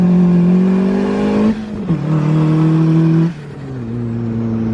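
A turbocharged Mazda Miata pulls hard in first or second gear, its engine note climbing steeply and loudly, then dropping sharply at each of two quick shifts before rising again.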